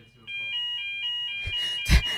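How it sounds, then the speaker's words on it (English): A building fire alarm sounds in short repeated electronic beeps, then holds a steady loud tone, with a voice and a brief thump toward the end. "Fire alarm."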